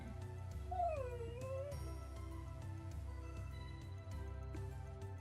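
A dog whimpers with rising and falling whines over loud, steady game music and effects, the cries clearest early on before fading beneath the backdrop.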